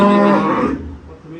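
A first-calving dairy cow on a farm lets out a single loud, drawn-out moo close by, the low call fading away after about a second.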